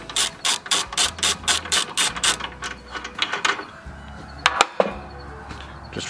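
A ratchet with a 17 mm socket turns a nut on a Hitachi C10RJ miter saw, giving a quick run of close, crisp clicking bursts, then pauses and a few more scattered clicks.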